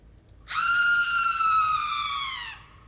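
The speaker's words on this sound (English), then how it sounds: "I believe there's a scream sound effect" A single synthesized scream sound effect from an RPG Maker cutscene, a high, sustained shriek lasting about two seconds with a slight downward glide before cutting off, heard alone and fairly loud.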